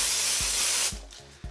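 Hairspray sprayed onto short hair, a loud continuous hiss close by that cuts off abruptly, followed by faint low thumps.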